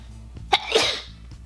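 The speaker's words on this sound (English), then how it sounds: "I have to sneeze." A single sharp sneeze close by, with a quick intake before it and a breathy burst, against a low steady background hum.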